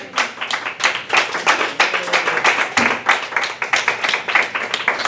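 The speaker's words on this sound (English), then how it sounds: "Thank you for that lackluster round of applause." Applause from the audience at a club meeting, a brief, fairly thin round of many hands clapping steadily for about five seconds in a room.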